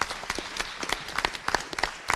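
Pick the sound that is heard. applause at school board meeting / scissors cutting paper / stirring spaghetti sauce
applause at school board meeting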